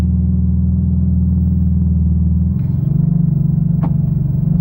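A Porsche 911 GT2 RS gathers speed from low pace, its close, steady engine rumble shifting pitch partway through and ending with a brief sharp click.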